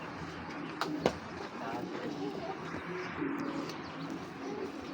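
A racing pigeon coos close by in low, rolling calls, with a couple of sharp taps near the start and someone talking over it.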